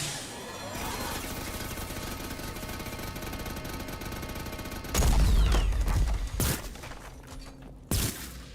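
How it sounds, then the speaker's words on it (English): Gunfire in the video game Mass Effect 2, a steady loud rattle of rapid automatic shots followed by heavier blasts and a couple of sharp bangs near the end. "Shoot until you can't shoot anymore."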